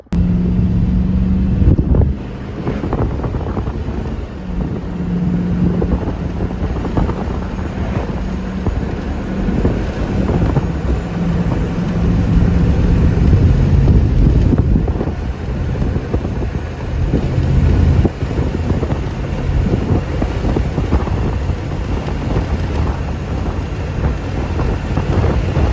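A car is driven on a road test after a transmission repair, with steady loud road and engine rumble and heavy wind buffeting across the whole drive, plus a shifting low engine tone.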